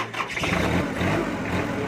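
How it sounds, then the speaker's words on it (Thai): An L3408 tractor's diesel engine runs close by, a dense, steady chugging rumble with no pauses. "ฟังเสียงเครื่องยนต์ดูนะครับ"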